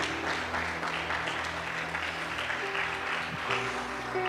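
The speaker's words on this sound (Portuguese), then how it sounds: "dá uma salva de palmas ao Senhor" A church congregation claps together in a steady, dense round of applause, with sustained organ or keyboard tones sounding underneath.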